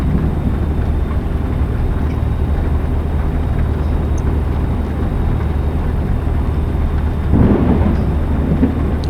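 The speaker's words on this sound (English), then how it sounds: "I really like the sound of that thunder." Thunder rumbles steadily over falling rain during a truck drive in the American Truck Simulator game, with a deeper swell of thunder near the end.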